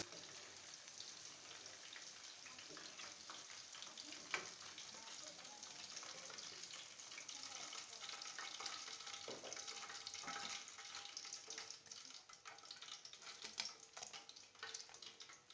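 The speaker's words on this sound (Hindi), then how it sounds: "मैंने चिकन को लो फ्लेम पे फ्राई किया।" Chicken frying in oil on a low flame, a steady, soft crackling sizzle with scattered small pops, quiet and continuous throughout.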